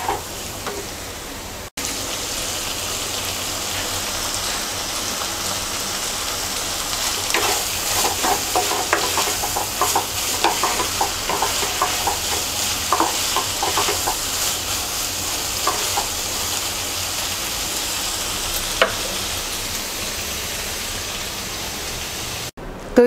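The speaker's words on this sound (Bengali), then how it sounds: "এবার এর মধ্যে ধনেপাতা কুচি দিয়ে নেড়ে চেড়ে নামিয়ে নেব" Potato and pointed gourd frying with prawns and chopped coriander, stirred in a pan: a dense continuous sizzle with scattered scraping clicks of the spoon, close and steady throughout, with no talk.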